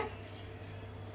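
Soft, wet squishing of chapati dough being kneaded by hand, quiet and close, with no talking.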